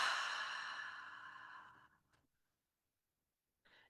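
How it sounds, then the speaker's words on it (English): A deep, slow breath led through a guided meditation, heard as one long, soft exhale that fades over about two seconds, followed by silence and then the start of a faint second breath. "let's take a few deep, slow breaths"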